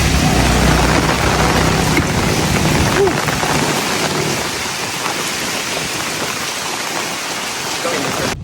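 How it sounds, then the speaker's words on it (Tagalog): Steady rain in Da Nang, Vietnam hisses over everything, heavy at first and easing slightly, with a few low rumbles early on. "So guys, umuulan yung ulan"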